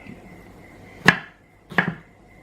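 Two crisp knife chops through food onto a cutting board, quartering pieces down the middle, spaced under a second apart, close and clear over quiet background with no talk.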